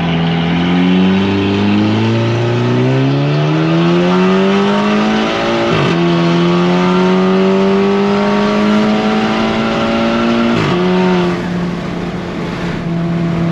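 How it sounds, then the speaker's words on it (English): A car engine revving hard and steadily while brake boosting, a loud sustained roar with pitch climbing and holding high, briefly dipping twice before surging again, close and continuous with no talk. "I guess he's going to try brake boosting."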